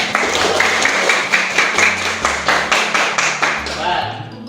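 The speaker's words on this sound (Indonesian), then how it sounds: "Tepuk tangan buat Ananda." Rhythmic group clapping from students in a school classroom, a steady run of sharp claps at a regular pace that fades out near the end, close and loud with a voice faintly underneath.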